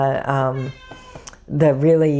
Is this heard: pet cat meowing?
yes